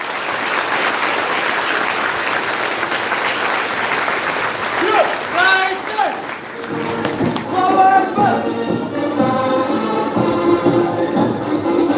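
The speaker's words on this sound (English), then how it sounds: "Let us all give them a loud round of applause." A large audience at a school investiture ceremony applauds loudly and continuously, and a voice begins speaking over the fading clapping about halfway through.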